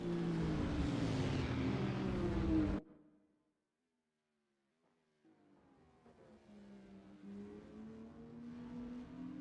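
Camaro GT4 race car in the Assetto Corsa racing game, engine roaring loud at high revs, then cutting to near silence before a quieter engine drone builds again.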